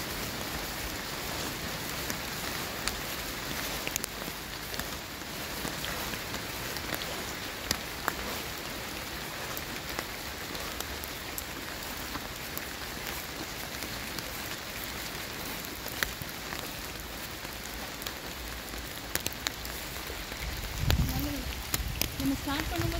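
Steady rain falls in the Batumi Botanical Garden in Georgia as a dense, even hiss of drops that continues throughout, with a brief rustling disturbance near the end.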